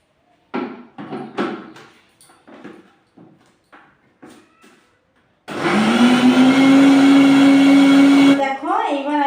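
A mixer grinder blends flowers with about a bowl of water, starting after a stretch of talk and running as a loud, steady whirring drone for about three seconds before cutting off.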